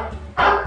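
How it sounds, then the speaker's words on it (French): A single loud, close dog bark, played as a sound effect from an iPad app, bursts out after a short stretch of quieter background sound. "c'est comme ça qu'on a fait pour les bruits des chiens"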